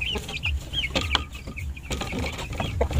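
Japanese Shamo crossbreed chickens with two-week-old chicks in a pen, giving repeated high cheeping and clucking calls close by over a busy, steady background.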